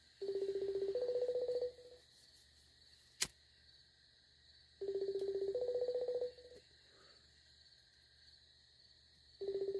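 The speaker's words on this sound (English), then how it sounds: "Listen, it's ringing." Telephone ringback tone on an outgoing call: two-part electronic rings with a pitch step mid-burst, each about 1.5 seconds, repeating about every 5 seconds with silence between, plus a brief click.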